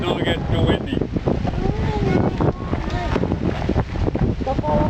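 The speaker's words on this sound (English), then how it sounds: "wind's kicking up" Wind gusts buffet the microphone outdoors at an airfield before a vintage Caudron aircraft flight, a loud, rough rumble rising and falling throughout while voices talk over it.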